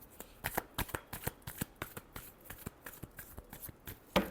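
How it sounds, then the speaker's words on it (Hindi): Tarot cards are shuffled by hand in a run of sharp, riffling bursts, about a dozen quick papery snaps in uneven rhythm, close and alone with no talk, ending on a louder final flurry. "Last shuffle."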